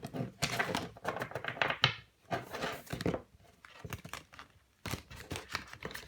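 A deck of oracle cards is shuffled close by in quick papery bursts of flicking and riffling, broken by short pauses, fairly quiet and with no talk.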